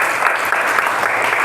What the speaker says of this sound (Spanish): denle un fuerte aplauso al Señor porque Él nos ama.